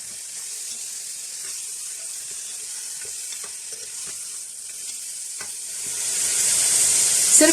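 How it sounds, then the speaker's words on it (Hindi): Mutton goes into a pan of hot oil with cumin, raising a bright hiss that stays steady and then swells louder near the end, with a few soft knocks underneath. "ये मटन डाल देंगे इसमें।"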